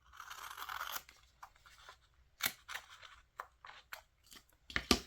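Scissors snip paper for a Chapter One Papers papercraft project, a quiet scrape near the start followed by a string of separate crisp cuts and rustles that end in a louder burst.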